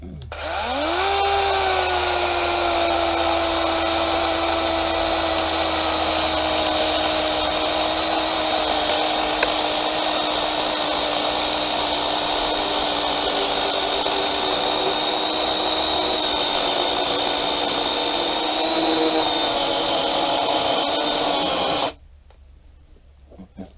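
A DeWalt 20V 12-inch cordless chainsaw spins up and runs at a steady, loud, high-pitched whine for about twenty seconds, then cuts off abruptly, leaving near-quiet.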